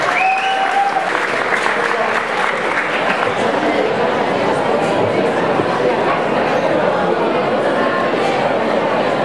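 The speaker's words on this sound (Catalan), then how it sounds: "un fort aplaudiment per a ella" Loud, sustained applause from a crowd at a graduation ceremony for upper-secondary and vocational students, dense clapping throughout with some chatter and a brief tonal sound near the start.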